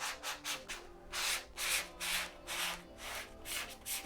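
A card scraped like a squeegee across embroidery fabric, about a dozen rhythmic rasping strokes, close and distinct, alternating quick short passes with longer drawn sweeps, no talking.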